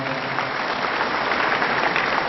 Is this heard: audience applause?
yes